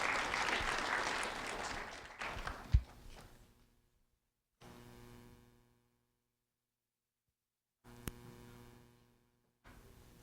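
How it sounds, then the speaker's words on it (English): A brief burst of applause from an audience at a student award ceremony, loud at first and fading within a couple of seconds, followed by gaps of near silence and low electrical hum. "a round of applause for Alexander Pena,"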